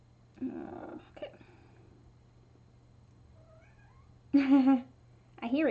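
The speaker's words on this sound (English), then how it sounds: "I hear a kitty cat." A cat meows outdoors in a few separate calls, first faint and distant, then two louder, closer meows near the end over a steady low hum.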